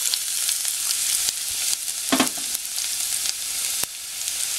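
Garlic sizzles steadily in hot cooking oil, a loud, close, continuous crackle broken by a few sharp pops and a brief stir near the middle, with no talking.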